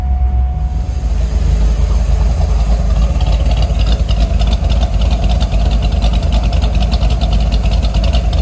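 C5 Corvette V8 with a Texas Speed Torquer V2 cam, stock mufflers and no cutouts, idling loud and close, a deep lumpy choppy rumble that holds steady throughout, with no voices.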